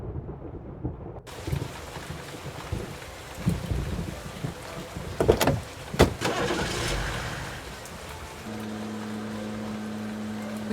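A car drives out into stormy countryside in the Nancy Drew: Trail of the Twister game, with a steady engine rumble and rushing road noise, thunder-like booms and rain-like hiss layered over it, loud and continuous throughout.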